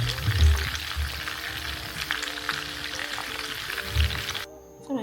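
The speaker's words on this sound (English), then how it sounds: "I'm just going to rub it in and start frying it" Fish frying in a pan while cooking for moi moi, a steady close sizzle and crackle with a few louder spits and bubbling pops, continuing for several seconds before briefly dropping away.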